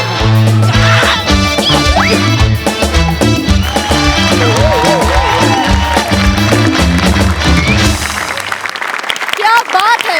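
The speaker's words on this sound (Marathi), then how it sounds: "टाळ्या." Audience applause and cheering follow a comedy performance on a Marathi stage show, a loud sustained roar of clapping with whoops over music, tapering near the end.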